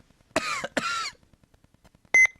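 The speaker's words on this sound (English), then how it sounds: "I just have a cough" A character in a Space Griffon VF-9 video game cutscene coughs twice in quick succession, harsh and close, followed after a pause by a short loud electronic beep over a faint ticking background.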